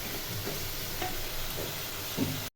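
Cauliflower and pangas fish fry in a pan with a steady, close sizzle and faint stirring scrapes. The sizzle holds evenly, then cuts off abruptly at the end.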